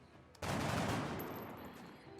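Sudden burst of automatic gunfire in XCOM: Enemy Within, a loud sustained crackling volley that starts abruptly and slowly tapers off.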